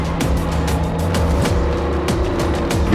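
An M113 armoured personnel carrier's engine running close by, a loud, continuous diesel rumble with steady low harmonics and periodic rattling pulses, no talk.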